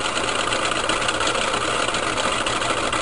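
A three-phase AC induction motor keeps up a dense, steady mechanical hum and rattle, loud and continuous with no talking.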